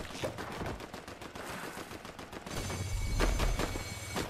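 Rapid automatic gunfire in a shooting video game, dense bursts of shots running continuously and growing heavier toward the end, fairly quiet overall.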